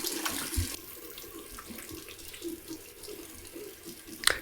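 Water from a running tap splashes into a sink as a safety razor fitted with a Gillette 7 o'Clock Super Stainless blade is rinsed, a close, steady hiss with small splashes and a clatter at the end.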